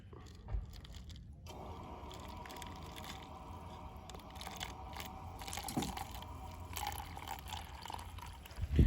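Brewed black coffee is poured out of a container, a continuous liquid stream splashing softly for several seconds with faint handling noise, no voices.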